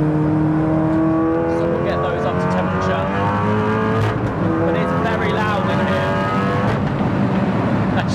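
A track-spec Volkswagen Golf R on Cup 2 tyres is driven hard around the Castle Combe circuit, its engine droning loudly and rising and falling through the gears, heard from inside the car for over eight seconds, with faint tyre noise.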